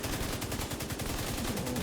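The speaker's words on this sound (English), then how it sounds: "I can get back and shoot already." Rapid gunfire from a slow-reloading weapon in a shooter video game, a dense, steady stream of fast repeating shots filling the whole moment with no talk over it.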